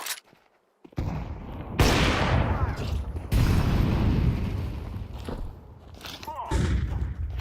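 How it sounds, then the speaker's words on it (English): A grenade explodes during a Counter-Strike 2 match, several loud broadband blasts in succession, each with a roaring decay, mixed with other game noise after a brief near-silent opening. "I'm throwing a grenade."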